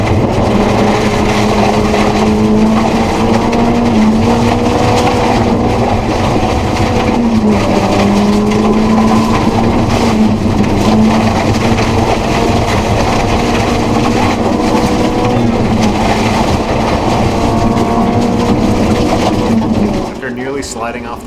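A low-powered rally car runs hard over a loose gravel road, its engine droning loud and steady for about twenty seconds with gravel and road noise beneath, then easing off at the very end.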